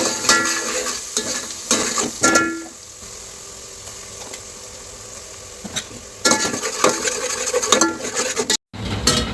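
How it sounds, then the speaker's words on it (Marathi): Turmeric and homemade masala are stirred in a pan for Kolhapuri misal: bursts of scraping and metallic clatter over a soft frying sizzle, with a quieter stretch in the middle. "हळद जरा हलवून घ्यायची आणि आपण जो केलेला मसाला तो यामध्ये टाकायचा"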